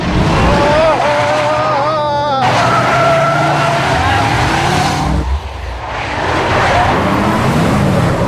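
A car speeds and skids, with loud engine roar and squealing tire tones that sweep and wobble, a brief dip midway, then the roar builds again, with voices at times.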